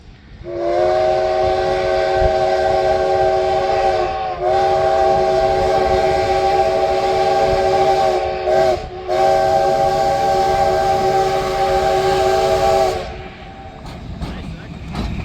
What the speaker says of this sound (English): caught the train pulling up to the ballast pile